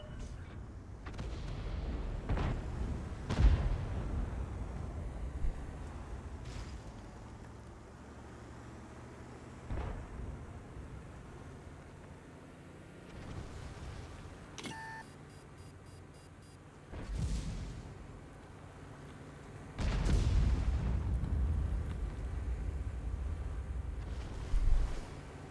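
Artillery fire in World of Tanks: several heavy, deep booms at irregular intervals, one loud blast early and a longer rumbling salvo near the end, over a low, steady battlefield background.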